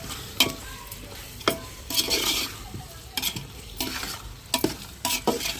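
A chicken curry is stirred in a pan at close range, with repeated scraping and clinking strokes of a spoon over a low simmering sizzle.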